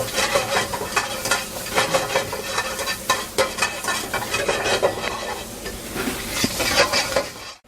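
Chopped tomatoes sizzle and crackle in a hot pan while a spoon stirs and scrapes, busy and close, with uneven bursts of frying noise.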